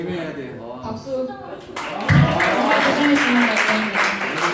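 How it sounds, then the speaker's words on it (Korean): Applause breaks out in a church youth and young-adult Sunday service after a skit, a dense wash of clapping that swells from about two seconds and carries on steadily, with voices and cheering mixed in. "박수."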